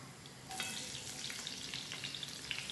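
Onions dropped into a hot pan with pansit and beef burst into a loud, steady sizzle that carries on close up, with small crackles and pops, no voices.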